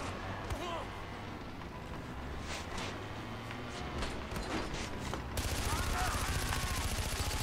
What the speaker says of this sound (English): I didn't want to have to shoot you.